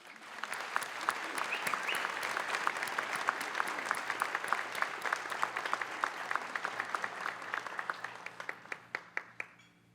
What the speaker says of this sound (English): Please get everyone a round of applause.